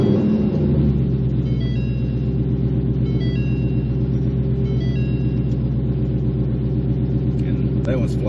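A supercharged car engine cranks and catches, then settles into a loud, steady idle rumble with a faint whine above it, close by and running alone.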